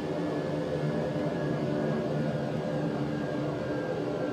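Convair B-36 Peacemaker engines in Flight Simulator X drone at reduced throttle, a steady loud broadband roar with a faint tonal whine, continuous and alone.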